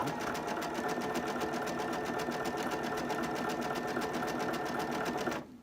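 A sewing machine runs steadily and close by, stitching appliqué onto a dog blanket in one continuous rapid whirring run before stopping abruptly at the end.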